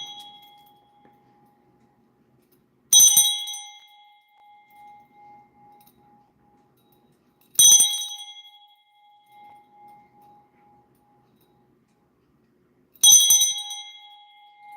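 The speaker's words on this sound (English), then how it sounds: "I gotta ring this bell." A small bell rung three times at even intervals, each a bright metallic strike with a ringing tone that slowly fades into near silence, close and clear with no talking.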